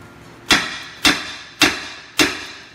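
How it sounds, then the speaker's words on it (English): Four evenly spaced, sharp metallic knocks from a 3-pound sledgehammer tapping on a rusty front control arm of a 2001-2012 Ford Escape during wheel bearing work, each strike close and distinct with a short ring. "you're going to tap on the arm with like a 3-pound sledge"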